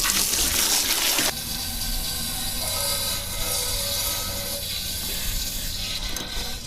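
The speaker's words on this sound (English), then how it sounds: "let's drain this hot water heater" Water gushes and drains steadily from the hot water heater of a Geo Pro 19FBS travel trailer being winterized. A loud, continuous rushing flow goes on throughout and shifts in tone after a brief surge at the start.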